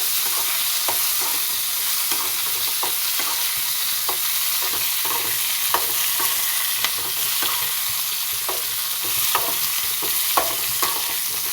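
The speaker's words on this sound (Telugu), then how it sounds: "ఇప్పుడే పచ్చిమిర్చి అయితే గోలుతున్నాయి" Green chillies frying in a pan for a ripe tomato and green chilli chutney, giving a steady close sizzle with light stirring clicks scattered throughout, no talking.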